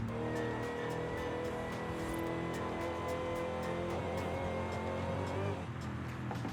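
A 2008 Dodge Magnum SRT-8 with a 6.2 engine drives out in the desert, its engine droning steadily and close with a rising, revving tone and some tire noise, under the wind.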